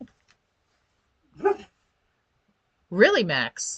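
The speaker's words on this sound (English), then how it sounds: "That was my dog in the background." A dog barks in the background: one short bark, then a louder pair of yelping barks near the end, with someone speaking briefly between them in an otherwise quiet room.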